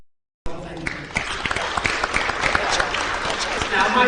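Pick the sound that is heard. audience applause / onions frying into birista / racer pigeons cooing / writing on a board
audience applause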